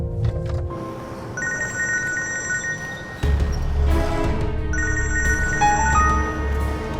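A telephone rings in an indoor scene, its repeated electronic ring tones standing out loudly over a dense musical background.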